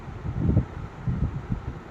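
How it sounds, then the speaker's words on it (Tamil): Wind blowing across a hilltop in Manjolai, a low, gusty rumble buffeting the microphone in uneven surges, steady and close with no voices. "நல்ல ஒரு காற்றுங்க இந்த இடத்துல சில் காற்றுன்னு சொல்லுவோம்ல சூப்பராக இருந்துச்சு"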